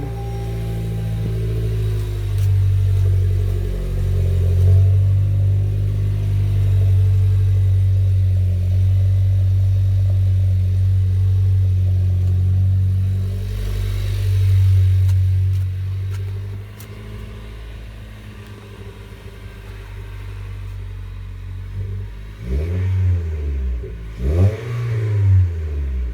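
A Toyota Corolla Hatchback with a newly installed Remark aftermarket exhaust rumbles with a deep bass tone, holding a loud steady rev before dropping back to idle, then giving a couple of short throttle blips near the end.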